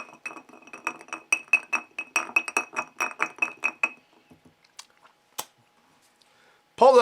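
A large ice sphere stirred by finger in a glass of Wilderness Trail single barrel bourbon, giving a quick run of bright clinks against the glass that then slows to a few isolated taps, close and clear.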